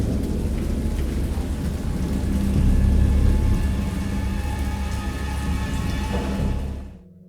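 Heavy rain and rolling thunder from a storm at sea in the game Dagon, a dense continuous downpour that swells into a deep rumble midway, then fades out abruptly at the end.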